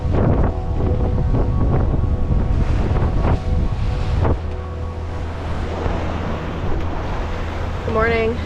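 Strong wind in the thirties sustained roars across a sailboat at sea at night, a loud steady rush with waves and hull noise, gusting heavier in the first half and easing slightly later; a voice briefly speaks near the end.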